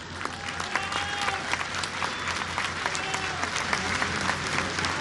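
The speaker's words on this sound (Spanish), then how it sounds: "Un aplauso al secretario Esteva, que construyó esta preparatoria." A crowd at a school event for a new preparatoria in Mexico applauds loudly and continuously, with dense clapping sustained throughout and a few voices faintly mixed in.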